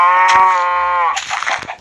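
A single loud cow moo in Minecraft Pocket Edition, a drawn-out tonal low that ends after about a second, followed by soft clicks and rustling game sounds.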